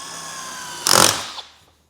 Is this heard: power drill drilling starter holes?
yes